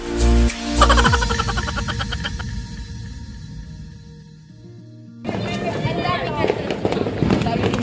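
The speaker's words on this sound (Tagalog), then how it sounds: "May fireworks oh" Crackling bursts and pops of New Year's Eve fireworks, loud at first, then fading and returning as a noisy crackle, with people's voices in the background.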